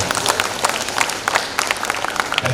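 An audience claps for a poem at a Tamil school festival poetry recital, producing dense, steady applause with many overlapping hand claps throughout and no voices standing out.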